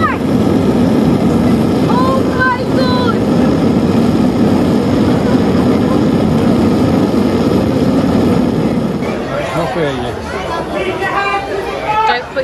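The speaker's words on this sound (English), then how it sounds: "We've gone for main engine start." A theme-park rocket ride at Legoland Windsor rumbles into its simulated main engine start, a loud sustained roar with chatter and people talking over it throughout.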